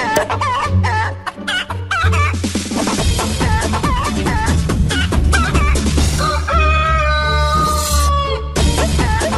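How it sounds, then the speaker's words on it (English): Chicken clucking and a rooster crowing ring out loud over busy background music with constant rhythmic sound, the bird calls coming in repeated bursts amid a children's animal cleaning show. "Oh, chicken."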